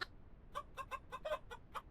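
Chickens in the video game Fantasy Shop Simulator give a quick run of about eight short clucks in an uneven rhythm, soft and close over a faint low background.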